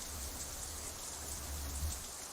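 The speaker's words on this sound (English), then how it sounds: "Raindrops hitting the umbrella make a distinctive sound, playing the staccato melody of rainfall for nobody in particular." Rain falls on an umbrella in the Katawa Shoujo visual novel, a soft, steady, even patter that fills the whole moment with no voices.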